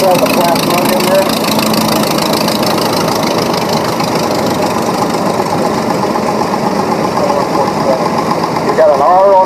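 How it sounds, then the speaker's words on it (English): A 6-cylinder diesel tractor engine runs steadily at a parade, a loud, continuous mid-pitched rumble close by, with a commentator talking over it throughout. "GD here with a 6-cylinder diesel in it"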